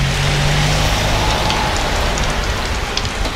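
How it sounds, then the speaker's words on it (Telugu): Heavy monsoon rain pours steadily on a street in Hampi, a dense, loud, continuous hiss with no break, and a faint hum of traffic underneath. "ఏం పడుతుందో వాన అని చాలా తక్కువ అంచనా వేసిన దీన్ని."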